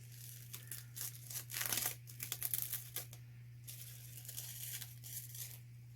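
Plastic wrapping being peeled off ceramic pots decorated with alcohol inks, giving irregular crinkling and tearing bursts at close range over a steady low electrical hum, with no talking.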